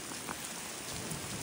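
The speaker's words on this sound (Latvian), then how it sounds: "mums ir lietus" Rain falls steadily during an outdoor training session, a soft, even hiss of drops on surfaces with no voices.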